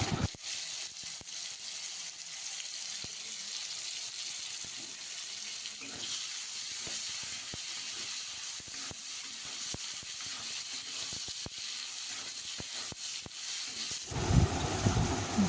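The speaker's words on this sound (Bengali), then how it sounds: "দু 3 মিনিট টমেটোটা ভেজে নিয়েছি।" Chopped tomato frying with salt in a pan for Bengali prawn curry, a soft steady hiss and sizzle throughout with scattered light stirring taps, fairly quiet, then a brief louder rustle at the end.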